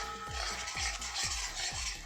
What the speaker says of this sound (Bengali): এবার আমি দিয়ে দিয়েছি সর্ষে বাটা, একটু নাড়াচাড়া করে নেব।